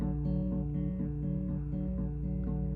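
A guitar tuned to open D plays an intro, softly rocking between two strings over a low sustained drone in an even, gentle rhythm, quiet and unaccompanied.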